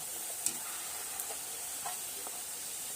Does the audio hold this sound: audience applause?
no